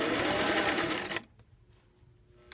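A sewing machine stitching the last side of a welt pocket runs in a loud, steady close whir for just over a second, then stops abruptly, leaving quiet room tone with a faint click.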